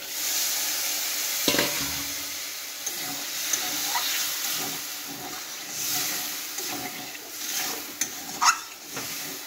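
A potato and turnip curry sizzles softly in the pan after the turnip cooking water goes in, a moderate, steady hiss broken by occasional scraping stirs and small clinks.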